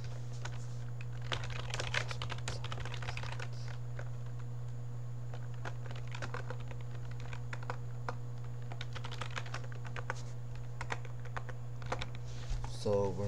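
Fingers type on a computer keyboard in quick irregular bursts of clicks, close but fairly quiet over a steady electrical hum, with a pause midway.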